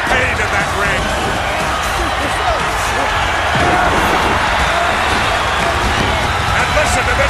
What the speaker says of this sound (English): listen to this capacity crowd coming to their feet almost